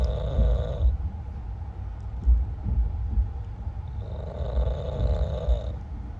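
Two long, droning snores a few seconds apart from a sleeping man, with quiet breathing and low background hum between them.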